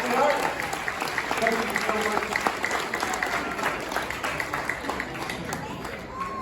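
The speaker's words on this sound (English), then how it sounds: "a nice big round of applause" Audience applause fills a winter-themed magic show, a dense steady wash of clapping lasting several seconds, with a performer's voice speaking over it near the end.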